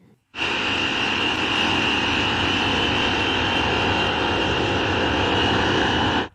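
An E-3 Sentry aircraft flies toward Prince Sultan Air Base in Saudi Arabia, a loud, continuous engine roar that starts abruptly, holds steady for about six seconds, then cuts off, with no talking.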